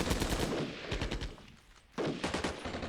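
Bursts of rifle and machine-gun fire in the war game Armored Brigade II, rapid crackling volleys that fade briefly and then resume, fairly faint and without voices.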